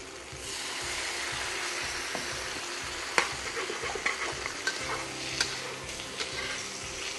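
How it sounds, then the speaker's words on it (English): Rice wine poured into a hot pan for turmeric chicken stew brings a steady close sizzle, with scattered sharp clicks and scrapes of a utensil over the bubbling hiss and no speech. "I'm going to deglaze it with some rice wine."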